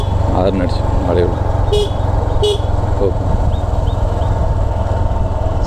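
Motorcycle horn tooting twice in short bursts while riding a geared bike through traffic, over steady engine rumble and road noise, with someone talking.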